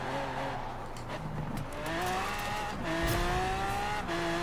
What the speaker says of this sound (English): see how fast this thing accelerates, because it is basically just an Aventador